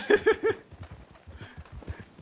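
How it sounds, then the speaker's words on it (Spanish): Appaloosa horse hooves clip-clopping in the game Red Dead Redemption II, a steady walking rhythm of moderately loud hoof strikes heard close with no talk. "excelente caballo, muy bonito"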